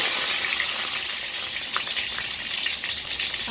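Eggplant sliding into hot oil for a Tamil eggplant curry, a steady bright sizzle and crackle of frying with small pops, close and fairly soft, no talking.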